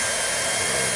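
A heat gun blows steadily over the sealed edge of a camper joint, giving a loud, continuous broadband whoosh with no talk for the full second.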